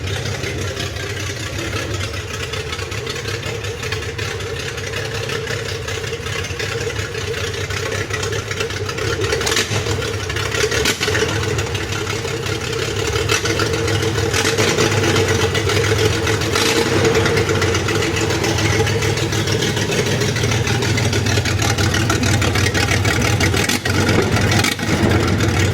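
The 3.0-litre L30 engine in a 1977 Nissan 280Z runs on its own at idle, a steady, close, loud mechanical drone with no talking, rising slightly partway through.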